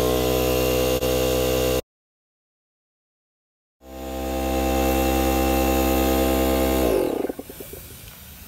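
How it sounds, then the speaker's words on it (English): Steady mechanical drone of a vacuum pump on the AC system of a 2001 Mitsubishi Mirage, loud and humming, cutting out to silence before starting up again and shifting tone as it runs. "So we are going to put a vacuum on the system."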